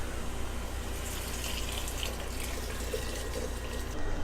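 Water pours steadily into a cooking pot, a continuous soft rushing fill that runs without pause, with no talking.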